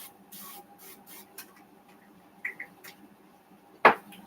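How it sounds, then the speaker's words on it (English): Several short hissing bursts of an infused extra virgin olive oil spray misted over potato dish, close and crisp, with a louder final spritz near the end against a quiet kitchen background. "I'm just going to be spraying the top with some infused extra virgin"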